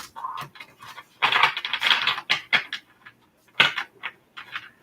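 Tarot cards get shuffled by hand in short riffling bursts and soft flicking patters, close and fairly loud, separated by brief pauses.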